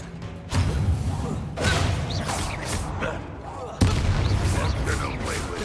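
Fiery Confringo spell blasts in Hogwarts Legacy, several sharp booming impacts spaced a second or two apart amid ongoing battle noise, with a voice speaking between them.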